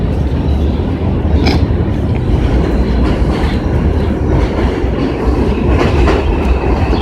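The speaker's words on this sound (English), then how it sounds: "Train go by again." A train rumbles past loudly and close, its heavy roar steady throughout with rhythmic clickety-clack of wheels on the rails.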